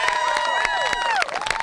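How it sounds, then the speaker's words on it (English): Applause and cheering from a crowd gathered for a youth soccer team at a U12 state cup final, a steady dense patter with shouting voices on top, fairly loud throughout. "So round of applause to my boys."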